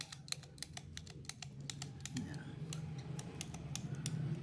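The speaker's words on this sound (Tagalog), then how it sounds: "Pindutin mo lang to, magre-reset na to." The reset button on a hand grip trainer is pressed, giving a run of sharp, close mechanical clicks in an irregular rapid series. They are faint, with a soft low hum underneath.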